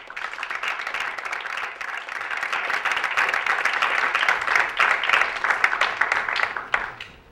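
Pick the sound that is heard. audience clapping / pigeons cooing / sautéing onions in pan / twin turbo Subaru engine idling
audience clapping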